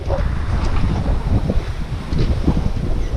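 Wind buffets the microphone while tide and swell slop against a sailboat at an Alaska Peninsula harbor entrance, a constant loud rush with low rumbling gusts and irregular water splashes close by, no voices.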